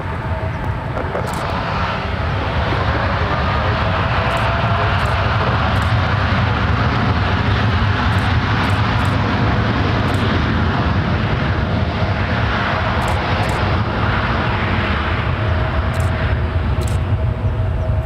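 A jet airliner lands on runway 2 Right at San Francisco International Airport, giving a sustained, loud broadband engine roar that stays steady and close from start to finish.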